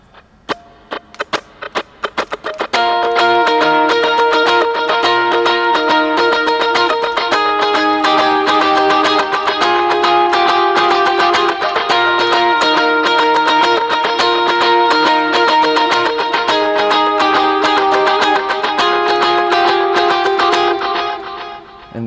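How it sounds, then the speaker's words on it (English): Electric guitar plays a riff through delay effects, starting with a few sparse picked notes and then a sustained, shimmering run of repeating echoed notes that rings out loudly and steadily, with no talking. "So with the delays on, it sounds like this."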